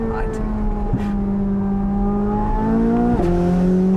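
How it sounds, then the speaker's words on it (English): The engine of a 2023 Chevrolet Corvette Z06 drones at high, steady revs with a smooth climbing pitch and a quick shift dip, loud and close, continuous throughout. "You guys heard that engine. It sounds glorious."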